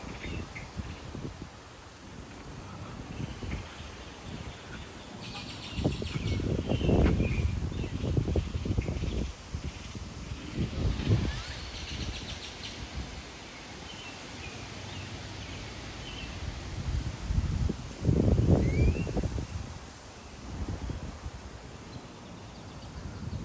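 Gusty wind outdoors in Frisco, Texas, about 30 mph gusts, buffeting the microphone with rushing, rustling bursts that swell and fade in waves, strongest in several loud surges, with no talking.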